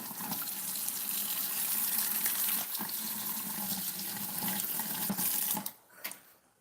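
Tap water running steadily into a kitchen sink while hands are wetted, a close continuous gush that cuts off near the end.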